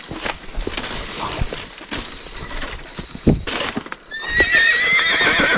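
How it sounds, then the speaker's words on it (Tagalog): A horse neighs loudly and shrilly near the end, after scattered clattering and thumps. Faint birds can be heard in the background. "Yung boses ng kabayo"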